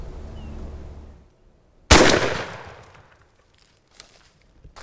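A single close, loud rifle or shotgun shot fired at a turkey gobbler in the field, a sharp crack that decays over about a second, followed by quiet with a few faint clicks.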